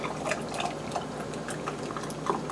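Cooked salad dressing being slowly poured through a canning funnel and strainer, a faint, soft liquid trickle with small irregular drips and splashes, close by and quiet, with no voices.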